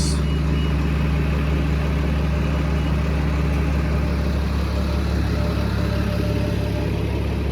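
A city bus engine idles at a bus stop, a steady, heavy low drone that holds constant throughout without voices.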